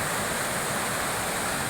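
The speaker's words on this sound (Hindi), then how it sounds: "ये भयंकर नदी यार के, पूरा पुल बह गया हमारा।" Raging flooded river in the hills after heavy rain, a loud, continuous roaring rush of water filling the whole clip with no voices.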